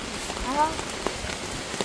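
Steady rain patters on a surface nearby, a soft continuous hiss with scattered louder drops, while a voice murmurs faintly underneath.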